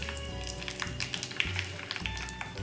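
Cumin seeds, curry leaves and a green chili crackle and sizzle steadily in hot oil in a home kitchen pan for a tempering, a soft continuous frying hiss with scattered pops.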